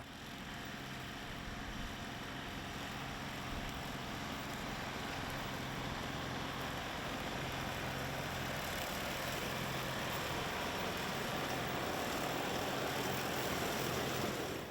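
Tractor pulling a Rhino TS10 10-foot flex-wing mower while mowing, a 37 hp machine giving a steady, moderately distant engine drone with mower rumble, continuous and unbroken, with no talk.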